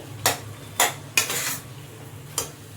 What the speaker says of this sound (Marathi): आणि परत एकदा छान मिक्स करून घ्यायचं